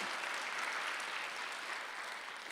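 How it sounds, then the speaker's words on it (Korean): Congregation at a Sunday church service breaking into sustained applause, a dense, steady wash of clapping from many hands filling the room with no voices over it. "박수로 하나 둘셋."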